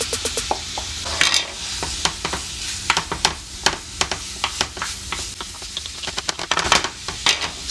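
Onion tossed into sizzling chicken chorizo in a pan, loud close frying hiss punctuated by rapid spatula scrapes and clacks against the pan, no talk.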